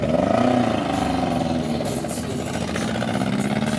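Race car engine misfiring on one cylinder, running with a steady, slightly uneven throb at close range, accompanied by faint voices nearby.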